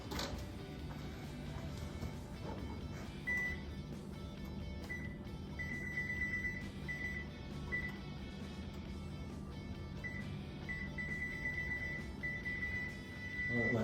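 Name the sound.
kitchen timer going off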